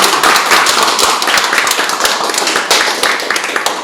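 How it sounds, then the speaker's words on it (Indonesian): A group claps hands together in a dense, steady burst of loud, overlapping claps, rousing a football team's gathering indoors. "untuk membakar semangat kita tepuk tangan."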